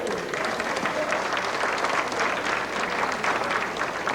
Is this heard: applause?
yes